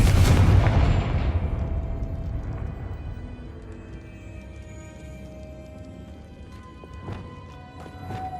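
A Confringo fire spell explodes in Hogwarts Legacy on PS5: a heavy boom at the start rolls off over several seconds into a quieter rumble, with a few faint thuds later.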